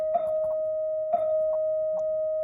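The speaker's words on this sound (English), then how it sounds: "that's just the bell at school here" A school bell rings with a steady, sustained electric tone that holds throughout, with faint pulsing and clatter underneath, heard indoors at moderate loudness.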